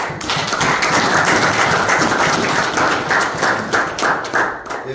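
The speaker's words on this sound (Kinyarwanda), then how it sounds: "ukomere Imana amashyi" A congregation claps loudly and steadily during Sunday school worship, a dense sustained wash of many hands close by with a slight rhythmic pulse, no talking over it.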